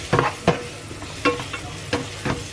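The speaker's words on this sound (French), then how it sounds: "Je vais donc faire revenir mes oignons dans la poêle." Onions frying in a pan on a home stove, with soft sizzling broken by several short scraping stirs of a utensil at irregular intervals.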